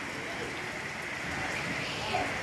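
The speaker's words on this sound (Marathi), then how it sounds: "फायनली एवढ्या जोरात पाऊस आलेला आहे आता" Heavy rain pours down after a hot sunny day, a steady dense hiss of falling water with no break, fairly soft and even throughout.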